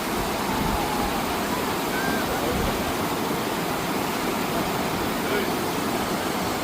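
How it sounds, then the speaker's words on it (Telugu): Waterfall at Bhushi Dam in Lonavla, a steady broadband roar of falling water that rushes continuously and evenly throughout, loud and close, with no clear voices over it. "ఇది బుషి డ్యామ్. ఇక్కడ చూసారా వాటర్ ఫాల్స్."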